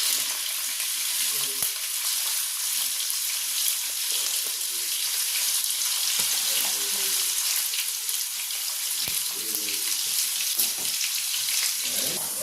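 About 300 g of small boneless chicken pieces fry in vegetable oil and butter, a loud, continuous close sizzle with faint stirring movement throughout.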